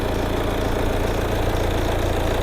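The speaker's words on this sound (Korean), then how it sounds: "엔진 소리 일정합니다." A Volvo S60 D3 second-generation engine idles steadily at close range, a smooth even hum with a low rumble and no change in pace throughout.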